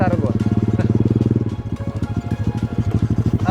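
Honda Supra X125 rebuilt as a retro Street Cup-style motorcycle, its engine running close by with a steady throbbing pulse whose rhythm loosens and shifts partway through.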